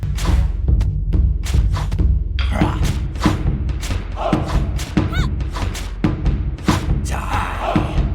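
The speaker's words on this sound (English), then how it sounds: "The characters do not only just talk to each other, but they also have cool combat sounds." Rapid thuds, impacts and whooshing hits from game combat, a dense string of punchy strikes over a steady low rumble.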